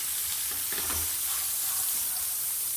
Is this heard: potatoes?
yes